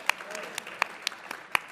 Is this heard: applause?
yes